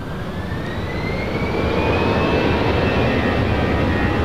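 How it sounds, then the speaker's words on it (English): A KLM Boeing 787-10 Dreamliner jet spools up for its north-side takeoff at LAX, a loud, steady roar with a rising whine that swells and holds at full power, no voices over it. "KLM, flight 602, 787-10 Dreamliner heading back to Amsterdam. Lighting up, should be a north side takeoff."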